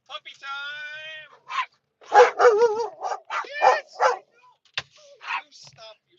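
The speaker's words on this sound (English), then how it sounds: "I said puppy time, not barky time." Puppies barking, a string of high, excited yips and barks with whining, close and loud in rapid bursts, with a person exclaiming briefly among them.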